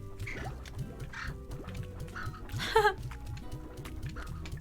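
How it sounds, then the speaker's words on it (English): Chicken toy in the Slime Rancher video game giving off a string of funny quacking, honking squeaks, repeated in quick bursts with one louder squawk midway, over soft game background sounds. "They're playing with this chicken toy and it's making funny noises."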